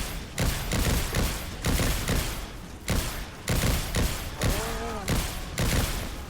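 Gunfire from shooting people in the Revelations 2012 video game: repeated loud bursts of rapid shots in a steady rhythm, broken by short pauses, close and prominent with a brief tonal effect midway.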